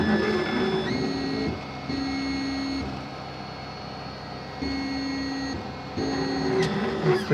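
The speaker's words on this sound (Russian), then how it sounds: "Вот с таким вот огоньком режется магнитный винил." Laser cutting machine working through magnetic vinyl at speed 30 and power 40, a quiet steady whirring with tonal motor whines that switch on and off in segments as the head moves.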